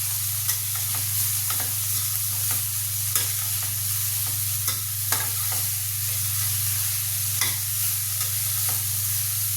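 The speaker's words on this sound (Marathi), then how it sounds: "भात असं छान खाली उकळून घ्यायचा" Rice stir-fried in a pan with a mint tempering sizzles steadily beneath a constant low hum, with regular scraping strokes of a spatula stirring through it.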